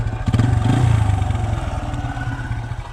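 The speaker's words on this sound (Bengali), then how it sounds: "বাইকটির সাউন্ড কন্ডিশন ভালো আছে দেখেন" A used TVS Apache RTR motorcycle engine idling close by, a loud steady pulsing putter with rapid firing beats and a brief blip of throttle near the start, no voices.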